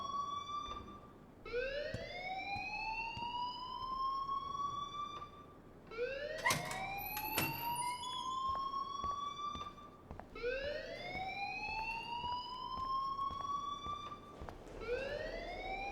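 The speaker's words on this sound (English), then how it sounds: "please turn off that alarm since that's your job" School alarm blaring in the video game Life is Strange, a loud electronic siren-like tone sweeping upward in repeated rising wails about every four seconds, with brief clicks and a short bright beep mixed in, no voices.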